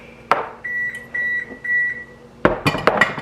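An oven signals it has finished preheating with a series of short, evenly spaced electronic beeps, close and clear, followed by a few sharp kitchen clatters and knocks.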